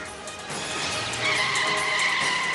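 Tires screech as a car skids during a chase, a loud, sustained squeal close by that rises in intensity partway through and holds to the end.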